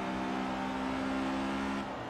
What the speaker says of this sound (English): this engine is so lovely